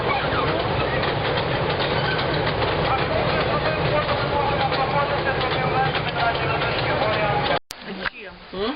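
A Carpathian tram of four cars in different styles rolls across a bridge, giving a loud, continuous rumble and rattle of wheels on rails close by, then a sudden cut to quieter sound near the end.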